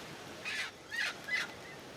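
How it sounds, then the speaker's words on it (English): Guinea fowl calling outdoors on a remote island, three harsh, rasping cries in a row, moderately distant and fairly faint over a quiet background. "There's guinea fowl or birds."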